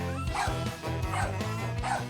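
A dog barks repeatedly in a steady run of sharp, loud yips and bow-wows, near and alone, while facing a cat it is annoyed with.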